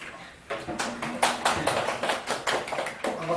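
A small lecture audience at a Korean humanities study session claps to welcome the speaker, sparse distinct handclaps that swell from quiet into a moderate, uneven patter of a modest crowd.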